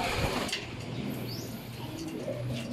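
Pigeons coo softly at a loft as racing birds arrive during a 278 km derby race, with low repeated cooing under a steady background murmur.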